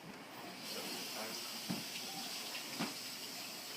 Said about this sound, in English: I'm going to wash my hands off because I don't want to get everything all dirty.